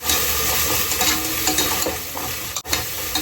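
Ginger garlic paste sautéing with onions in a pan, a close, steady sizzle with light stirring scrapes and one brief break near the end, no talk.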